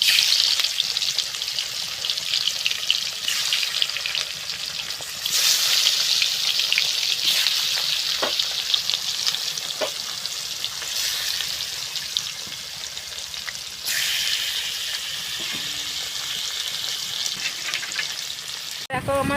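Pieces of fish coated in salt and turmeric sizzle in hot oil for a fish and taro curry, giving a loud, steady, close crackle and hiss that runs unbroken throughout.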